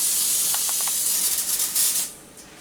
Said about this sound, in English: I've got some cooking spray here. I'm just going to spray this down.